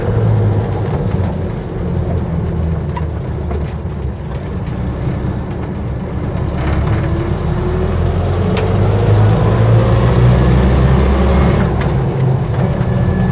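A Land Rover Series 1 86in drives at low speed in high gear, its engine a steady, close rumble with some shifting tone, heavy road and wind noise, and no talking.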